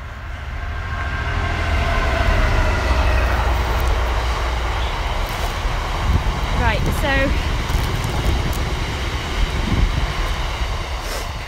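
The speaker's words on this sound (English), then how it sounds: "so there's a train just gone past there." Train rumbling past in a steady, loud roar that swells and holds, with wind noise and a short spoken word over it.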